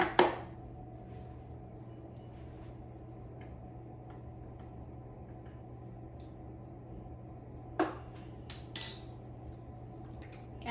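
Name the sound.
mixing vegetable oil into muffin batter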